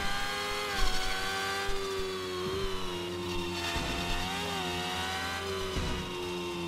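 A video game car with a custom 4-speed gearbox built on real-life transmission ratios, its steady whining gear and engine drone rising and falling in pitch as it drives on.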